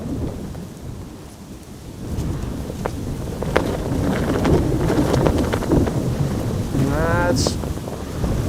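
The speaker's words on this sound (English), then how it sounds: "Pretty gusty wind blowing against my umbrella." Gusty wind buffeting an umbrella in stormy weather at Amsterdam Schiphol Airport, a constant loud rushing roar with rain-like hiss and brief rumbling gusts, a faint distant whine near the end.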